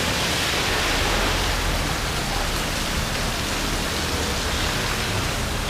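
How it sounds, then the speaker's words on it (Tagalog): Heavy rain pours down in a steady, dense roar that fills the whole stretch without a break, with no voices over it. "Lakas ng ulan."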